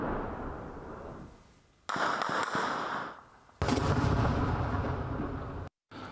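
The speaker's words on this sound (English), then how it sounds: "they've cranked up the bombardments by an order of magnitude." Artillery bombardment in the Nagorno-Karabakh fighting, loud booming blasts with rumbling tails and sharp cracks between them, arriving in several separate bursts.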